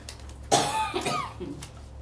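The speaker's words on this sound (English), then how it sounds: "Apologies for coughing." A single sharp cough followed by a couple of smaller throaty coughs during a planning committee meeting, close and fairly quiet, with no speech.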